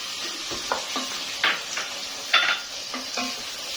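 Tomato paste hitting a pan of frying onion and garlic, with soft sizzling under a few scraping stirs of a spoon against the pan, close and fairly quiet.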